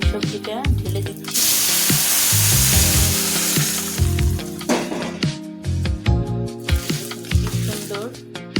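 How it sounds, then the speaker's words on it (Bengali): Vegetables tipped into hot tempering oil in a new wok give a loud, steady sizzle that surges at the pour, with clattering stirs and scrapes through it and a few brief voices underneath. "আমি সবজিটা ঢেলে দিচ্ছি।"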